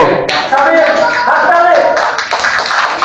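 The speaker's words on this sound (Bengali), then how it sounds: "সবাই তৌসিফের জন্য জোরে হাততালি দিব।" A classroom of children clapping loudly, a dense burst of overlapping hand claps with chatter and voices mixed in throughout.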